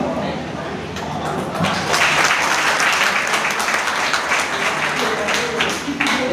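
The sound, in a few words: audience applause at speech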